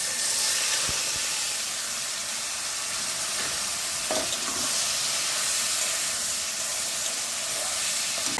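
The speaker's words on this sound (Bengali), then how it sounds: "নাড়াচাড়া করে একটু ভেজে নিতে হবে" Marinated red lentils fry with cumin and dried red chilli in hot oil, giving a loud, even, hissing sizzle that runs without a break, with a few faint stirring scrapes underneath.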